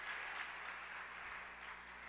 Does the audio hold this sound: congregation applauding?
yes